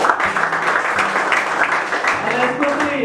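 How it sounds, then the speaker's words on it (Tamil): Audience applause, a sustained wash of clapping from a hall full of people, steady and moderately loud, with a voice talking over it. "அவங்களுக்கு இன்னும் நல்ல ஒரு பலத்தை கைதட்டல் கொடுத்தாங்க"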